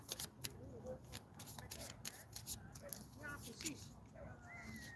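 Oracle cards from an Archangel Michael deck being shuffled, a busy run of soft riffling flicks and rustles over several seconds, close up, with faint background murmur and tonal sounds mixed in.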